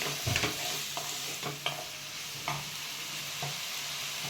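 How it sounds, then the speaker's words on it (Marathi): A homemade vegetable dish sizzles steadily in a pan while a spoon stirs and scrapes it at intervals, producing repeated close clinks and scrapes over the constant frying hiss. "छान परतून घ्यायची मस्त अशी भाजी"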